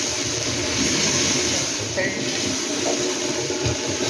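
Water sprinkled by hand onto a hot tawa while making semolina dosa, a steady loud sizzling hiss with brief sputters.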